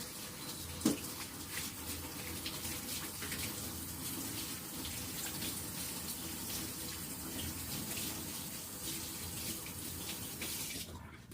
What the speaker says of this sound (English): I'm going to run some hot water over that to clear it off and then use it.